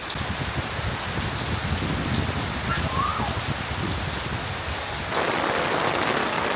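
Rain falling steadily on a rooftop garden, a dense, even hiss of drops on surfaces that turns slightly louder and brighter near the end, with no voices.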